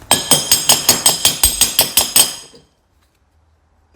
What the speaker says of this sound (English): Pound it back.